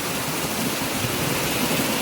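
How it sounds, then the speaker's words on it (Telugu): A small waterfall pours in a steady, broad rush of falling water, constant and fairly close, with no voices. "చిన్న జలపాతం ఫ్రెండ్స్, చూడండి అయితే బ్యూటిఫుల్గా ఉందన్నమాట"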